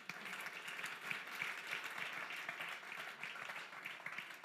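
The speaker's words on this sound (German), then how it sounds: "da haben wir nämlich einen Applaus noch schnell für die Deko" Faint, distant applause from an audience at a talk on self-perception, a steady patter of many hands clapping for the stage decoration, continuing evenly throughout with no speech over it.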